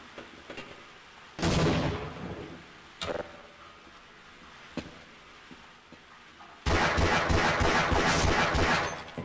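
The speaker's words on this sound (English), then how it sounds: "Can I bounce a grenade on the wall there?" In the Half-Life video game, a grenade bounces off a wall and explodes: a couple of sharp booms ring out first, then a long, loud, roaring blast fills the end.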